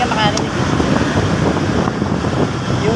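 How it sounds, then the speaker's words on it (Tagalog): Wind buffets a microphone on a moving motorcycle, a loud, continuous rough roar with low rumble and gusty flutter that runs through the whole stretch. "Yung pagpag ng hangin."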